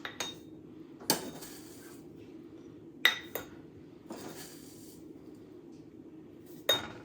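A spoon knocks and clinks against glass jars as ingredients are spooned in, with a few sharp, separate taps spaced seconds apart over a quiet background.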